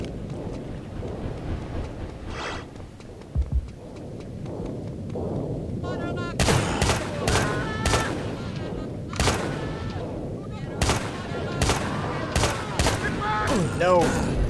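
Gunfire in the game Doom 2 on a custom map, sharp repeated blasts bursting in quick rhythmic succession over busy game noise, with a voice talking early on.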